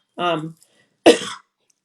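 Two short coughs, separated by a brief pause, close to the microphone with silence around them.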